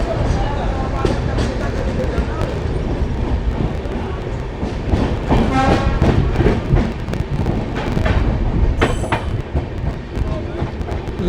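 The Amritsar Ajmer Express rolls near Jalandhar City, a loud continuous rumble of the moving train with rhythmic wheel clatter and a brief squealing tone near the end, and a voice speaking faintly under the noise.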